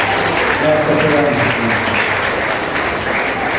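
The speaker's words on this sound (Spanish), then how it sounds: "Un aplauso." Church congregation applause, a dense continuous wash of clapping filling the room, with a voice speaking over it briefly.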